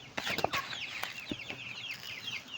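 Native chickens cluck repeatedly during feeding, a busy overlapping flock close by with short chattering calls and a few sharper squawks, no talking.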